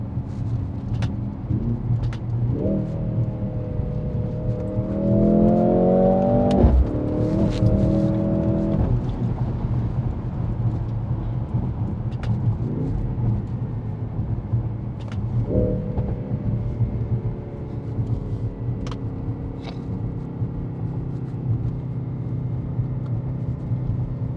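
A 2025 Mercedes-AMG GLC 63 S E Performance engine revs up and climbs in pitch twice, with a steady low rumble throughout and road noise underneath.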